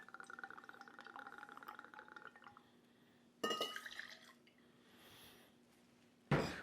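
Two ounces of Woodford bourbon poured into a tin while making a cocoa mint julep, short liquid splashes and drips that start and stop in bursts, close and fairly quiet.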